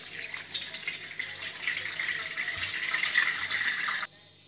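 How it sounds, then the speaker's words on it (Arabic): Cold water runs steadily from a kitchen tap over freshly boiled, drained pasta to rinse it, a close, continuous splashing stream lasting about four seconds before cutting off abruptly. "دابا غادي ندير عليهم ماء بارد باش ما يتعجنوش"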